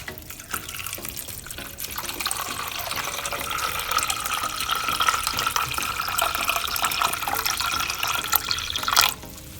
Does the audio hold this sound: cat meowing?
no